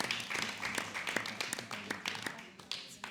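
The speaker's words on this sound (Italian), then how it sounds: "Il nostro Applauso." Small audience at a school film-screening debate applauding, sparse and uneven individual claps with audible separate hits, fairly faint, with voices talking over them.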